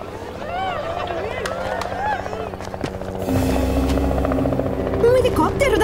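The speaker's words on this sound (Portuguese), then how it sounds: "Um helicóptero da polícia!" A police helicopter flies overhead, its steady, throbbing rotor drone swelling in partway through and holding loud under an urban scene, with voices heard just before it arrives.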